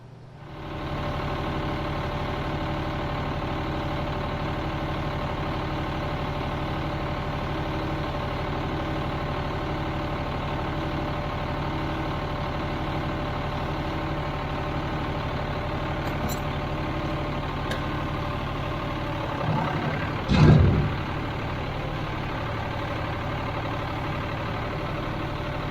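A farm tractor engine idles steadily nearby, a constant low rumbling drone with no talk, broken only by a brief thump near the end.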